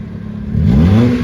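Nissan K11 with a cheap aftermarket eBay exhaust, engine still cold, revving up in a short loud burst, the exhaust note rising and droning close by.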